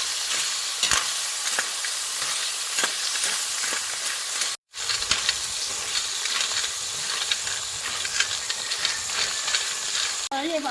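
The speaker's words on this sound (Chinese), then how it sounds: "葱姜蒜、大料，先爆香。" Scallion, ginger, garlic and star anise sizzling in hot oil with chili bean paste in a wok, a loud steady hiss of frying throughout with faint scraping of stirring and a brief break midway.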